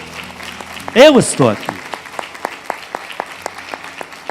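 A church congregation claps during a sermon, crisp and rhythmic at a steady beat. The clapping follows a short spoken phrase and carries on alone to the end.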